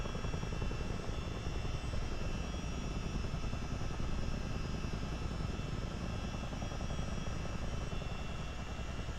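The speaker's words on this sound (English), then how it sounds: "Trying to hover the helicopter when landing." Helicopter in Microsoft Flight Simulator 2024, a steady, dense rotor and turbine drone that holds constant while it hovers for a landing, with no voices.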